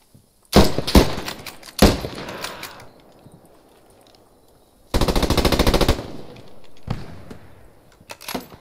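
Machine gun fire in the Post Scriptum video game comes in loud, close bursts: two short volleys, then a sustained rapid burst lasting about a second, then further short bursts.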